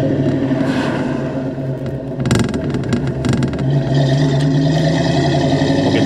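A 1990 Ford Mustang LX Coupe with stock suspension is driven over a bumpy road, its engine droning loud and steady with interior rumble and brief rattling thumps partway through.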